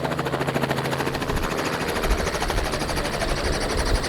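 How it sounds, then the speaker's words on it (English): A helicopter flies close by with a loud, rapid, continuous rotor chop and engine whine throughout. "I'm gonna see you guys on the helicopter."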